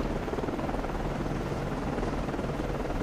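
A helicopter launches from a ship in the submarine game Cold Waters, a loud, steady low rotor thrum with rapid blade chop, close and unbroken throughout.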